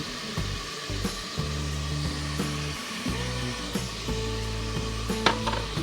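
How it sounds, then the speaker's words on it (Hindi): Tomatoes with crushed red chili, turmeric, chili powder and salt frying in oil for haleem, a continuous close sizzle broken by repeated knocks and scrapes of a spoon stirring the pan. "और इसे मैं लेती हूँ भून"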